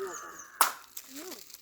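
A hard-shelled bael fruit cracks open with one sharp, loud break near the start, followed by faint rustling as the pieces come apart, close by.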